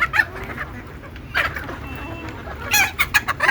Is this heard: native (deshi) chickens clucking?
yes